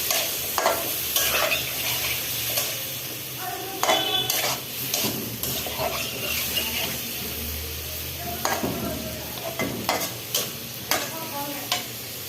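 Potatoes fried with ginger, garlic, onion, turmeric, chili powder and green chilies sizzle in a pan while a utensil scrapes and stirs in repeated clinking strokes, up close and moderately quiet.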